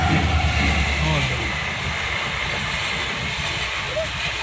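A train rushes past close by, a loud, steady roar and rumble that slowly eases, with voices faintly audible over it.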